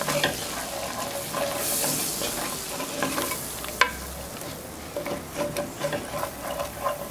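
A flour-and-cornstarch mixture cooks in a pan for a chicken breast dish, giving a steady close sizzle with scraping stirs and a sharp utensil tap midway, with no talk.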